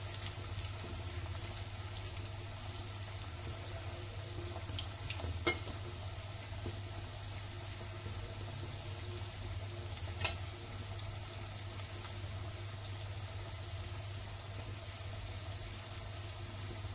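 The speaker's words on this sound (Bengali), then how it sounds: "আমি পকোড়াগুলো উল্টিয়ে নিচ্ছি, নাড়াচাড়া করে ভালোভাবে ভেজে নেব।" Rice pakoras frying in oil as they are turned and stirred: a faint, steady sizzle over a constant low hum, with a couple of brief clicks from the spatula and no talking.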